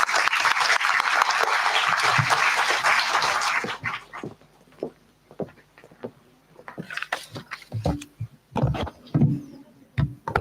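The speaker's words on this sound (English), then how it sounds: "warm round of applause" A conference audience applauds as a senior professor is welcomed to the stage, a dense burst of clapping for nearly four seconds that breaks off into scattered claps, thumps and shuffling.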